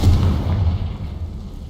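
A Confringo explosive spell blasts in Hogwarts Legacy, a loud low boom right at the start that rolls into a heavy rumbling decay and fades slowly, with no voices.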